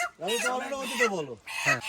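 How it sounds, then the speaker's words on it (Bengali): A chicken offered as a prize at a contest squawks loudly and close in a few drawn-out, wavering bursts with brief gaps between them. "রাজু হচ্ছে সেকেন্ড পুরস্কার, এই যে একটা মুরগি আর হচ্ছে একটা ইলিশ মাছ"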